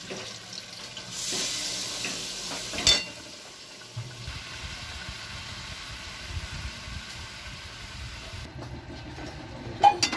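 Spice paste is fried in a pan with added water: a hissing sizzle first, then softer scraping and stirring, ending with a small clink.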